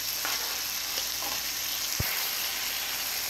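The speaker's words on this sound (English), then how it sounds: "And now we're going to add about half a tablespoon of butter." Half a tablespoon of butter sizzles and fries steadily in a hot pan for house fried rice, a continuous close hiss with a couple of faint clinks.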